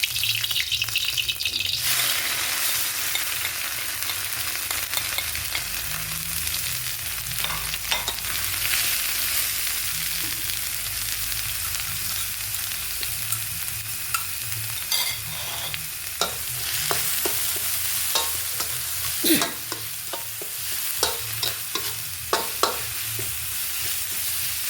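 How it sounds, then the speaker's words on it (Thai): Thai curry paste being stir-fried in hot oil for khua kling, a steady close sizzle with frequent scraping and stirring clicks throughout, no voices. "ผัดเครื่องแกงของเราเนี่ย"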